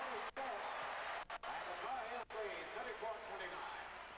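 Applause from a college basketball bench standing up during a 1983 North Carolina versus St. John's game, spread-out clapping and arena crowd noise underneath a commentator's steady play-by-play.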